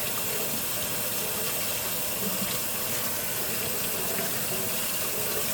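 Tap water runs steadily into a sink while aquarium decor for a planted tank is rinsed under it, a continuous close splashing rush with no talk.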